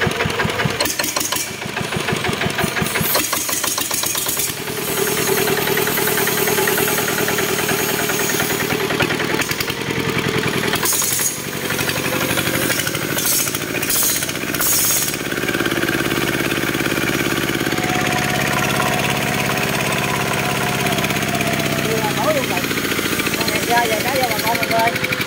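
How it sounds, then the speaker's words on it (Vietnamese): An old HS 70 motorbike engine runs steadily and fairly quietly throughout, a continuous idling mechanical hum with no talk over it. "Cái máy này không nhìn thấy nó cũ, nó chạy tiếng im dữ được chứ."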